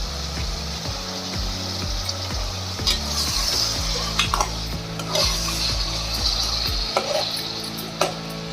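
Small brinjal pieces sauté in a pan with a low, steady sizzle while a spoon scrapes and knocks against the metal in repeated stirring strokes, close and with no talking.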